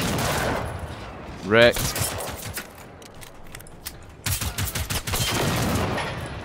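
Enemy robots in the shooter Generation Zero fire bursts of gunfire, loud rapid crackling volleys that rise and fall throughout, with a brief shouted remark from a player partway through.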